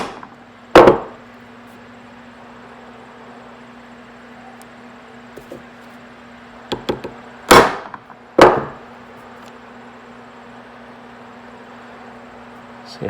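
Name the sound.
hammer striking a chisel on a piece of metal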